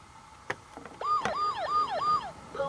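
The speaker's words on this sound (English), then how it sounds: "They have different types of sirens and horns." A click, then a VTech Turn and Learn Driver toy's ambulance siren warbling up and down in quick repeated cycles, close and fairly loud.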